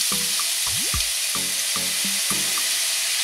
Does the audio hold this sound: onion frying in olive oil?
yes